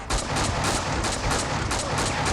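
Rapid, continuous gunfire from the video game Max Payne 2 rattles in dense repeated bursts, loud and close, with no voices over it.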